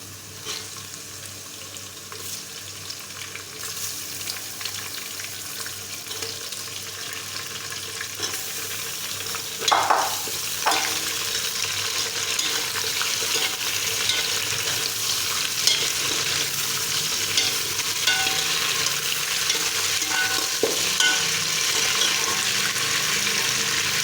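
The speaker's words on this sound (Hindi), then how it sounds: "अब हम इसमें पाए डाल देंगे, अपने बड़े गोश्त के पाए।" Beef trotters frying in a pot with browned onions, giving a continuous hissing sizzle that grows louder midway, with occasional stirring knocks and no talking.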